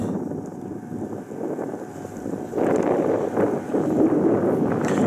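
A speedboat runs out on a small lake at Lake Minatare in western Nebraska: a low, steady motor rumble that grows louder about halfway through, partly buried in heavy wind buffeting on the microphone.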